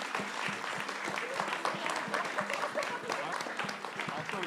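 Conference audience applauding the panelists, a steady wash of clapping from a room full of people, moderately loud and sustained, with a voice speaking faintly underneath.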